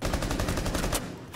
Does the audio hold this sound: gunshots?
yes